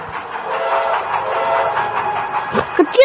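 Steady rumbling and clattering of a train pulling wagons in the Sodor Simulator video game, a Halloween-themed run, continuous throughout with a few sharper squeals and clanks near the end.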